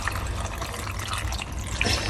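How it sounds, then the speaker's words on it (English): Water poured from a jug into a cooking pot holding sorrel (zobo) leaves, a steady continuous splashing and trickling throughout, close and fairly loud with no talking. "So I'm just gonna add a jug of water."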